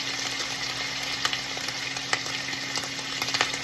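Food sizzles and crackles in a hot pan, a steady close frying hiss with occasional louder pops and spatters, no voices.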